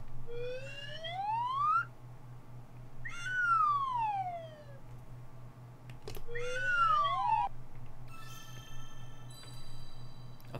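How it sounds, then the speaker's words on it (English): Cartoonish slide whistle swoops from the rhythm game Theatrhythm: Final Bar Line rise and fall in long glides, several in sequence over a low steady musical hum, ending with bright tones. "Slide whistle noises?"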